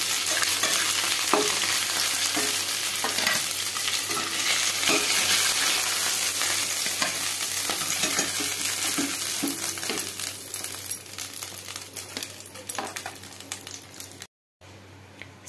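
Fish heads sizzle and crackle in hot oil in a pan, with steady frying noise and scattered scraping and stirring clicks throughout. A brief gap of silence comes near the end.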